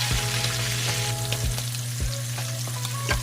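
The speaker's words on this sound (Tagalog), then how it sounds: "Ipa-fried lang muna natin, guys." A pompano fish steak fries in hot oil in a pan, giving a steady, close sizzle with a few light clicks throughout.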